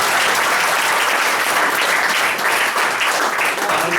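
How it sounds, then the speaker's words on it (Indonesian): A room of insurance agents at a seminar bursts into loud, close applause, a thick, continuous wash of many hands clapping that lasts the whole stretch without letting up. "Tepuk tangan Indonesia lah."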